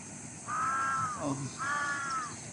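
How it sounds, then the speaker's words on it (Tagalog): Two drawn-out, harsh bird calls, one after another with a short gap, fairly close over steady background hiss. "ang daming ibon doon"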